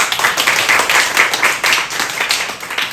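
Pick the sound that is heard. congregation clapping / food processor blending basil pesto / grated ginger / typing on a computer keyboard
congregation clapping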